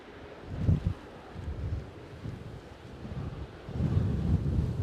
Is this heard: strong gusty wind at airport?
yes